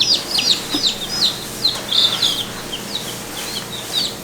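Backyard chickens cluck and chirp close by in short, repeated bursts, with faint rustling underneath and no talking.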